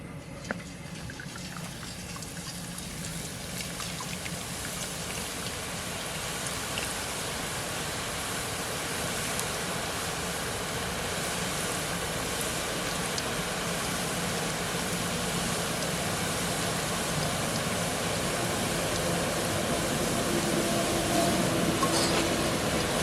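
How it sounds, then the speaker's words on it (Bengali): Boondi frying in hot oil for homemade chanachur: a faint, steady hissing sizzle that continues evenly for the whole stretch with no breaks and no voices. "প্রথমে বুন্দিয়াগুলো ভেজে নেবো"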